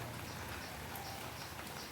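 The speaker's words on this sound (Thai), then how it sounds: "เพราะว่าฝนลงมานี่" Rain falling outside a garden house in Phatthalung on a morning of steady rain, a soft even hiss of drops on surfaces, continuous and fairly faint.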